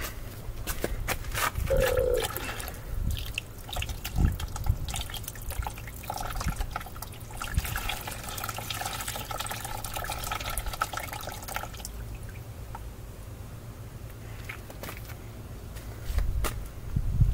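Water pours and trickles off a sand and dirt mixture, with quiet splashing and dripping that continues unevenly before tapering off.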